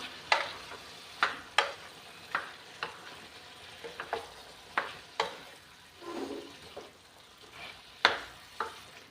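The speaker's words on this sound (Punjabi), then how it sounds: "ਚੰਗੀ ਤਰ੍ਹਾਂ ਕਰ ਲਿਆ ਮਿਕਸ ਲਗਾਤਾਰ ਹਿਲਾਉਂਦੇ ਹੋਏ" Boiled potatoes and leafy greens stirred in a frying pan, a soft, low sizzle under repeated scraping strokes of a spoon, spaced unevenly and fairly close.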